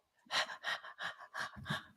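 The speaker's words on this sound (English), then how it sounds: "Look, can you see him panting?" A small dog, a chihuahua, pants in the heat close by: about six quick, breathy huffs in steady rhythm over two seconds.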